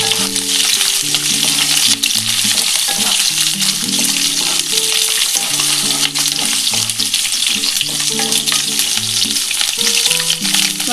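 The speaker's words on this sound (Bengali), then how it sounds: "আমি এই ক্যাপসিকামটা দিয়ে দিলাম একটু হালকা করে নিচ্ছি" Sliced capsicum stir-fries in a pan for chilli paneer, giving a steady, dense sizzle throughout with light stirring, under continuous background music.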